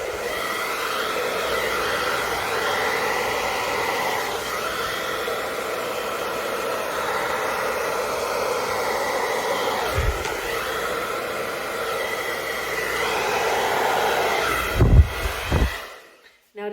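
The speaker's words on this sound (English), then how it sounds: "Now it is a bit intense, this dryer, so you gotta be careful." A hair dryer blows steadily at close range in an intense, continuous rush of air, with a few brief knocks near the end before it cuts off.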